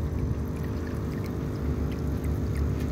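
Aquarium water from a guppy tank drains through a siphon into a bucket, a continuous close pouring and gurgling flow without pause.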